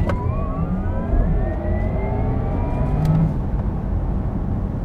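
A Porsche Taycan Turbo S electric car launches hard on dry asphalt, its whine climbing steadily in pitch over a rushing roar of tyres and wind, loud and close.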